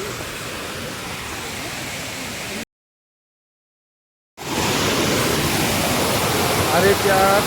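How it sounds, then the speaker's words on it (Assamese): Large Solokadare waterfall at Chandubi, Assam, roaring as a steady broadband rush, loud and near, cut by a brief silent gap before resuming. "ইয়াৰে ৱাটাৰফল চাওক, ইমান ডাঙৰ ৱাটাৰফল চাওক এইটো।"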